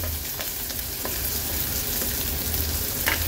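Garlic and green chillies sizzle in hot oil, producing a continuous dense crackle with occasional brief pops and spatula taps, close and steady throughout, with no voices.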